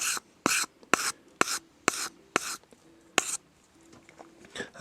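Repeated rasping strokes of a sharpening tool smoothing rough edges on a knife blade, about eight short, loud, evenly spaced scrapes close by, with a quiet pause near the end.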